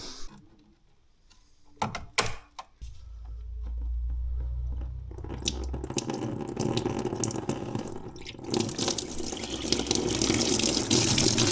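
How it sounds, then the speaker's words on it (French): Coolant draining from the cooling circuit of a Peugeot THP engine, a few mechanical clicks and clunks, then a low rushing gush followed by a steady splashing trickle of liquid into a container, close by with no talking. "maintenant on va vider le circuit de refroidissement"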